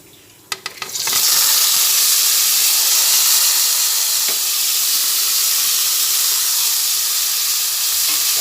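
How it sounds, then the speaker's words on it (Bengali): Eggplant pieces, rubbed with salt and turmeric, dropped into hot oil and frying, a loud dense sizzle that bursts up after a couple of small clicks and then holds steady, close and continuous. "বেগুনগুলোকে এক এক করে আমি ভেজে নিচ্ছি"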